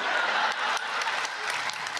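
A stand-up comedy audience applauds with dense, steady clapping that stays loud and even throughout, a full crowd ovation with no voices standing out.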